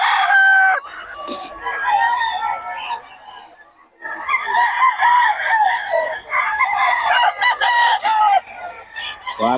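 Roosters and chickens at a rainy-morning poultry market crow and cluck close by, loud calls overlapping repeatedly, with a voice mixed in.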